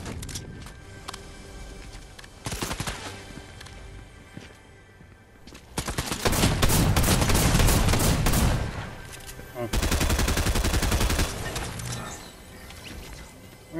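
Bursts of rapid video game gunfire, heavy volleys loud and close, with quieter shots between and voices talking over the action.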